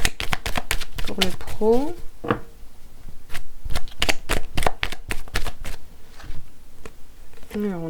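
Béline oracle cards are shuffled in a run of crisp, rapid riffling bursts, interleaved with someone speaking French nearby.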